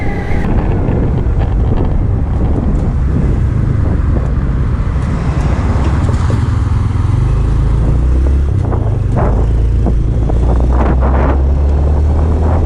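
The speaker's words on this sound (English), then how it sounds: "Cars pass me all the time." Steady roaring road and wind noise from a moving Honda Trail 125 motorcycle, with cars whooshing past at times; loud and continuous, no talking.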